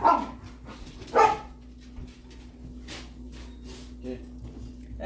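A dog barks a couple of times nearby while a person talks and kitchen sounds from making a Philly-style cheesesteak carry on in the background.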